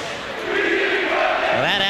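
Home crowd at a 2012 NCAA Tournament first-round basketball game, St. Mary's College of Maryland hosting Bethany College, cheering loudly and steadily, with shouts and voices swelling near the end.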